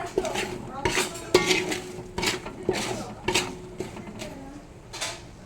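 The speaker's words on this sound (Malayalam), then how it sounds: "ഒന്ന് ഇളക്കി കൊടുക്കുക നന്നായിട്ടൊന്ന് ഇളക്കി യോജിപ്പിച്ച്" A spoon stirs mango pickle masala in a metal pan, giving repeated close scraping clanks at an irregular rhythm, with some talk in the background.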